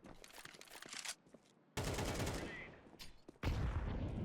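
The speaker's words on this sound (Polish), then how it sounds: "Zobaczcie, jak on strzela." Rapid bursts of gunfire from the video game Counter-Strike 2, loud sharp volleys in quick succession broken by short quiet gaps, with heavy sustained shots near the end.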